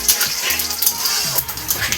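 Bay leaves and whole cumin seeds crackle in hot oil in a pan, a close, continuous bright sizzle with occasional utensil scrapes and no talking.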